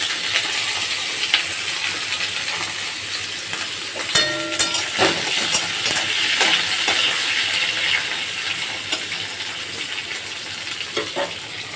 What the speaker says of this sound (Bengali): এই দেখো পটলটাকে এবার আমি ভেজে নেব।